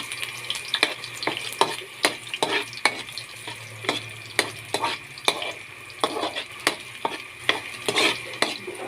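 Garlic and onion frying in a pan while being stirred, a steady sizzle under regular sharp scraping and clinking strokes of a utensil, close and repeated throughout.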